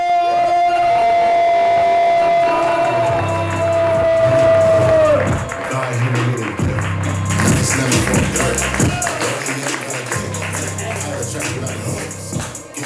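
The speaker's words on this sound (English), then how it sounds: "That was a great applause." An audience at a live show cheers, whoops and applauds loudly as a performer is welcomed, a dense crowd roar after a held musical tone fades.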